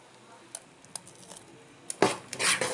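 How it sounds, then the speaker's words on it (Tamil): Appam batter made from ration rice being stirred in a metal vessel: a few soft clinks early, then a louder stretch of wet scraping and sloshing near the end, close and without talk. "ஊற்றுறப்ப நல்லா இந்த மாதிரி வந்து நல்லா கலந்துங்க"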